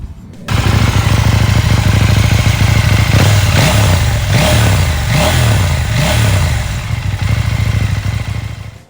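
A KTM 790 Duke motorcycle on its stock exhaust idles loud and close, then blips its throttle in several quick revs that rise and fall before settling back to a rumbling idle.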